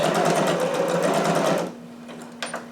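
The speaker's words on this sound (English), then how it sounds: "Get to the end, I'll just back stitch" A sewing machine back stitching fabric runs in a steady, close, loud whir that stops partway through, leaving a faint hum and a couple of small clicks.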